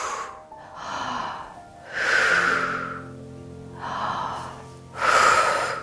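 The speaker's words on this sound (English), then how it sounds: "and exhale" Forceful breaths pushed out during a core compression exercise, three or four long breathy exhalations in a slow, even rhythm, close and moderately loud with no talking.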